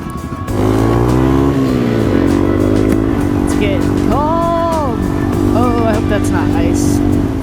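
A Yamaha TW200 motorcycle in fifth gear at wide open throttle on a chilly desert ride, its engine holding a loud, steady drone close by throughout with a few brief pitch swells, while a person talks over it.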